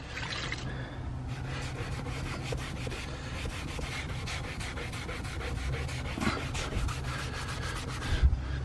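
An eraser scrubs the tan interior of a 2009 VW Touareg TDI, giving a steady, close, continuous rubbing and scraping that runs without pause and grows slightly louder near the end.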